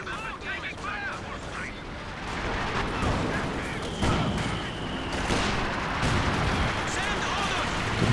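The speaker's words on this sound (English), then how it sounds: "Sib's mortar, gonna take some infantry support gun shells here." Mortar and infantry support gun shells burst repeatedly across a Company of Heroes 2 battlefield, a dense run of booms and crackling gunfire piling up over eight seconds, growing louder and busier toward the end. A voice talks throughout.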